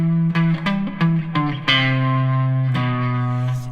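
Electric guitar playing a riff through a distortion effect, loud sustained notes with a few short plucked notes first, then long ringing held tones.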